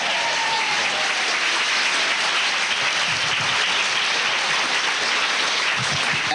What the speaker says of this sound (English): How about a round of applause for Gorbachev